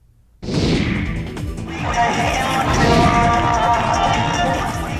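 A dense crowd of devotees packs a decorated Ganesh pandal, a loud continuous roar of voices and commotion with clattering knocks and a swell of cheering partway through.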